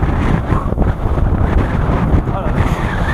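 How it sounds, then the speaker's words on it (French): Strong, gusty wind buffets the microphone on a winter bivouac hike at -9°C, a loud continuous roar with surging gusts and snow being swept across the surface. "le vent il est vraiment très fort, c'est très rafale"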